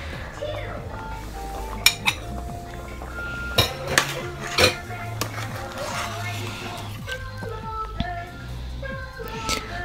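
Oha soup being stirred in a cooking pot, with scattered metallic clinks and scrapes of a utensil against the pot over a low background hum and faint voice-like sounds.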